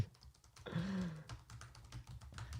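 Close typing on a computer keyboard: quick uneven clicks run throughout the short stretch, with a brief tonal sound-effect blip partway through and no speech over it.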